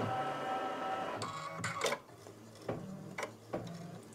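A Brother Luminaire or Baby Lock Sol embroidery machine stitches a stipple quilt pattern around applique, a steady close mechanical whir broken by sharp ticking clicks and short louder bursts, with no talking.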